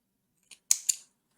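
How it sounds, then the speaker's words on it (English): Scissors snip through crochet yarn during work on a V-neck drop-shoulder sweater: a light tick, then two quick crisp cuts close to the mic, alone in a quiet room. "cut the yarn,"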